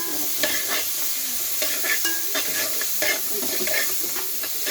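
Veg fried rice being stirred in a pan after pepper powder goes in, with steady sizzling and repeated scraping strokes of a spatula, close and moderately loud, no talking.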